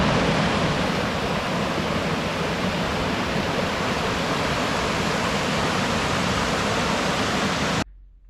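Steady, full roar of West Burton Falls, a waterfall, heard close and loud as broadband rushing water that holds constant for about eight seconds before cutting off abruptly.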